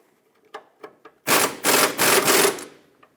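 A ratchet snugging up a lower control arm bolt on a 2008-2012 Honda Accord, with a few light clicks followed by loud, close bursts of rapid ratcheting and no talking.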